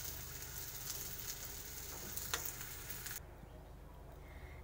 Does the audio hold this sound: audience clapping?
no